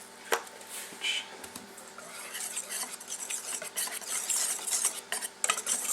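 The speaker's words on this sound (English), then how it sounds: "Stir that in." Dutch baby batter being stirred with a pinch of salt, a utensil scraping and clinking against the bowl in quick irregular strokes that grow busier and louder toward the end, close up with no talking.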